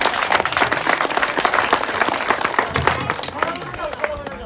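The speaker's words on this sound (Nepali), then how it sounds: "यस्तो महान काम गर्ने हाम्रो जापान टोलीलाई एकचोटि शुभ आशीर्वादको रूपमा शुभ ताली बजाइदिनुहोस्" Audience applause for the Japan team at a gas distribution event, dense continuous clapping from a crowd, fairly loud and steady throughout with some crowd noise mixed in.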